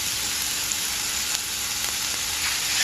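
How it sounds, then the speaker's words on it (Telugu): Mushrooms frying in a pan for a masala curry give a steady, close sizzle throughout, with faint stirring scrapes and no talking. "టేస్టీకి తగినంత సాల్ట్ తగలంగానే చక్కగా దోరగా ఎర్రగా వేగుతాయండి"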